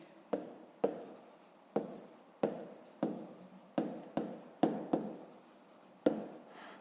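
A pen writes on paper during a fifth-grade maths lesson, nine crisp scratchy strokes in quick succession, each starting with a soft tap and trailing off, close and quiet.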